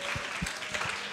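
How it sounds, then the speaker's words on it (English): Audience at a women-in-tech panel event in Singapore applauding as panelists come to the front, a brief, fairly quiet wash of clapping with a few distinct louder claps. "If you could give them a warm round of applause."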